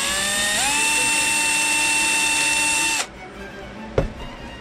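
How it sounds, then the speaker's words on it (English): A small power drill whirs steadily for about three seconds, boring a starter hole in the wooden hull of an HMS Bounty model ship, then cuts off, followed by a single sharp click. "I'm going to use that to give me a starter hole."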